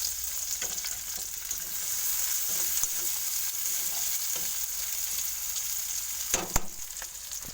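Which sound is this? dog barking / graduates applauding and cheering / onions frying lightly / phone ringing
onions frying lightly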